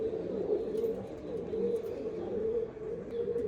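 Black Andhra pigeons coo in a low, steady murmur close by, the soft throaty calls repeating continuously with no talk over them.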